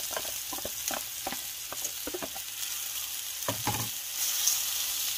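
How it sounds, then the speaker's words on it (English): Cooked chicken with peppers and onions fries in a pan, a steady moderate sizzle punctuated by a series of clinks and scrapes from stirring, with no voices. "the chicken is cooking and it is actually done. So we're going to go ahead and add in the peppers and the onions."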